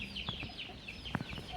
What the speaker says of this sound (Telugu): ఇవి భీమావరం లైనేజ్ పిల్లల ఫాదరు.